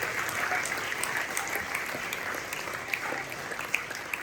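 Church congregation applauding in a dense, sustained wash of clapping, with a few sharper individual claps standing out near the end.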